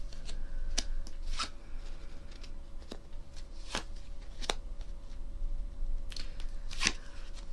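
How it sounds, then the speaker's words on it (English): Tarot cards are shuffled and dealt, giving a series of sharp, close slaps and flicks at irregular intervals over a steady low background hum, with no talking. "Right, let's deal the cards."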